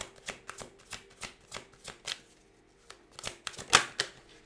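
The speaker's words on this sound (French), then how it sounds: "Une dernière carte, s'il vous plaît." Cards from an oracle deck are shuffled and drawn in a rapid series of soft riffling flicks and slaps. They come at an uneven rhythm, close and quiet, with a brief pause midway and a sharper snap near the end.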